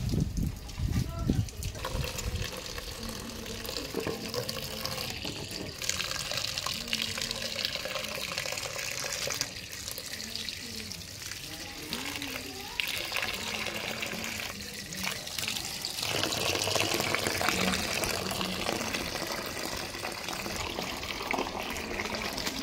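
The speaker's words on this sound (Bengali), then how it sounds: "কলে তো জল এসছে" Water runs from a household tap in a steady splashing stream that continues throughout, with someone talking over it at times.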